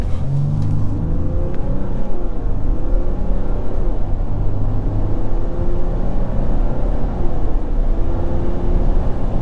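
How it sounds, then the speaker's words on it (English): A 2022 RAM 1500 Limited EcoDiesel pickup launching hard from brake torque, deep loud diesel rumble and droning engine roar building steadily throughout from inside the cab. "we are going to try a quick acceleration run"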